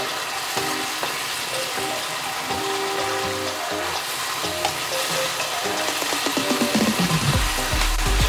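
Chinese takeaway-style beef and mushroom sauce bubbles and sizzles steadily in a pan while a utensil stirs and scrapes through it, with no talking.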